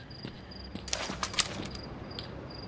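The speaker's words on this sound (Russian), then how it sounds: "Будут сверчки." Crickets chirp at night in a dark wild area of a video game, thin repeated high trills over quiet ambience, with a few soft thumps and clicks.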